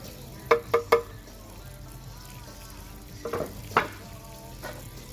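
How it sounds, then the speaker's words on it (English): Tomatoes for shakshuka simmering in a pan over an outdoor fire grill, a soft steady sizzle and bubbling broken by a few sharp clinks of a utensil against the pan. "the tomatoes are starting to bubble up"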